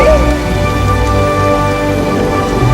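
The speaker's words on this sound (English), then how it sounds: "It's just rain, it's okay." Steady rain falls loudly and continuously, a dense wash of sound with no pauses.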